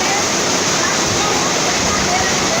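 Rainwater rushes loudly through a street after twenty minutes of heavy rain, a dense, constant roar of flowing water close by with no break.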